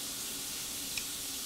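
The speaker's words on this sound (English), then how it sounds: "Nice sizzle already." Fat renders in a hot pan with a soft, steady sizzle and hiss, quiet and continuous, with one small pop near the end.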